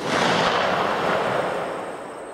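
A single loud shot from a Marlin government rifle with a bare muzzle: a sharp, close blast that rolls into a broad, fading roar lasting about two seconds.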